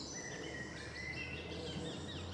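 Several birds sing in mixed woodland beside a downhill footpath, thin chirps and whistled phrases scattered across the clip over a low steady background hum, fairly faint and distant.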